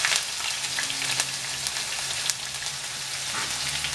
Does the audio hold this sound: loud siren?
no